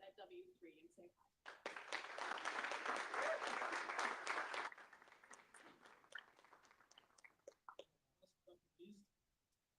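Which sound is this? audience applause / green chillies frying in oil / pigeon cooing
audience applause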